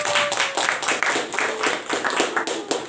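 An audience in a classroom-style talk gives a brief round of applause, brisk close hand claps with rhythmic sharp taps standing out, no speech over them.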